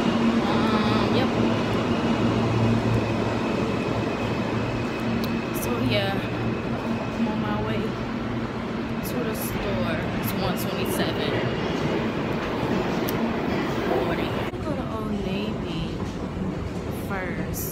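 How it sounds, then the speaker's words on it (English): Steady rumble and rolling hum inside a moving train car, continuous and close, with voices talking faintly in the background throughout. "So I made it on the train."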